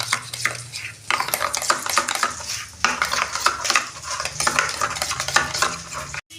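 A spoon stirs and beats turmeric and coriander powder into a curry mixture for a catla fish dish, scraping steadily against a metal pan with a faint sizzle, continuous and close without speech.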